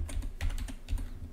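Someone types a web address on a computer keyboard: a quick, uneven burst of crisp keystrokes, close and clear, with no talking.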